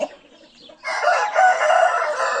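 A rooster held in someone's hands lets out one loud, close crow that rises after a brief quieter moment and carries on strongly to the end.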